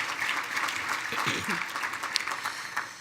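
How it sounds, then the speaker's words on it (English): At a regional chamber's annual dinner, a crowd applauds presenting sponsor Consumers Energy with steady, full clapping throughout, while a voice briefly speaks over it partway through. "let's one more time applause Consumers Energy for being our presenting sponsor"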